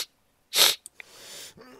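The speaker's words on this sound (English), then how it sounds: "I sniffed a little bit. Sneezed." A single sharp, close sneeze bursts out, followed by a couple of small clicks and a soft breathy exhale.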